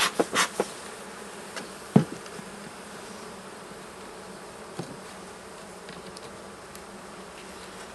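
Honeybees buzz steadily around an open queenless hive during an inspection, a dense close drone punctuated by a few light knocks and clicks of frame handling.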